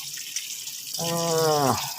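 Water from a tap or sink runs briefly to rinse a sanded car brake part in a mechanic's workshop, a short rising gush of liquid starting after a quiet moment.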